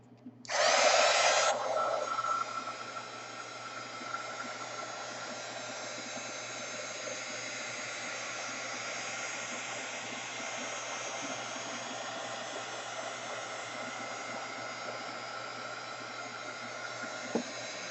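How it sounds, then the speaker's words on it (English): Heat gun blowing hot air in a steady, continuous whoosh, starting with a louder surge for the first two seconds and then settling into an even drone that runs to the end, no voices. "I'm going to get my heat gun"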